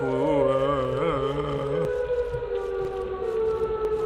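A wavering electronic siren from the Siren Head video game wails, rising and falling in pitch, then settles into a steady, eerie drone with faint clicks scattered over it.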